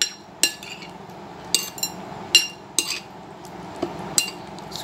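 A spoon clinks against a bowl at an uneven rhythm, roughly eight sharp taps, while shrimp marinade is mixed with garlic paste, with soft wet stirring between the taps.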